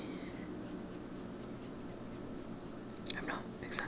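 Makeup product being blended across paper while coloring with cosmetics, a continuous soft scratchy rubbing that runs steadily throughout at close range, with a faint whisper-like rustle near the end.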